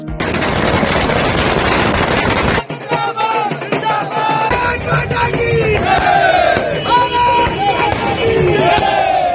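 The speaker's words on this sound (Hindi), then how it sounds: "इस दौरान जमकर आतिशबाजी की गई।" Loud crackling bursts of fireworks at a BJP celebration mixed with a roaring, cheering crowd, followed by shouting voices and political chanting over continuous popping.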